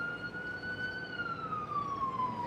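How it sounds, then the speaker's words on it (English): An ambulance siren wails outside as it passes, a single sustained tone gliding slowly up and then down, fairly faint and distant over a low background hum. "The ambulance going by,"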